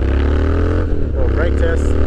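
A street scrambler motorcycle accelerating hard from a standstill toward 100, its engine loud and close as it rises in pitch through the gears while someone talks over it.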